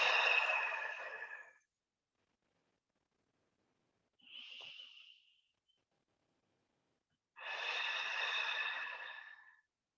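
Deep breaths during a yoga session, three separate soft, breathy exhalations with long quiet gaps between them, close and intimate, with no talking.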